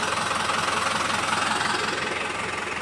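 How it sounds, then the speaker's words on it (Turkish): Farm tractors idle while warming up before hauling manure and hay bales, a steady close rumbling engine drone with a low knocking pulse that holds evenly throughout, no voices. "Evet, traktörlerimiz ısınsın diye bekledik."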